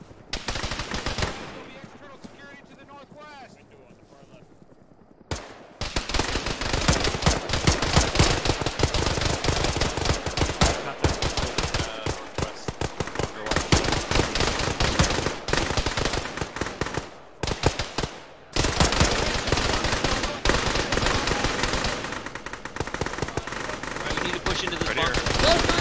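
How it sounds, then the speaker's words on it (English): Sustained bursts of automatic and single-shot gunfire in an Arma jungle firefight, loud and dense for most of the stretch with brief lulls, while players talk over the radio. "Taking fire from the right."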